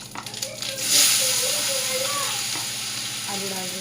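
Potatoes dropped into a hot pan with asafoetida and cumin for sabudana khichdi, giving a loud sudden sizzle that settles into steady close frying with a few stirring scrapes.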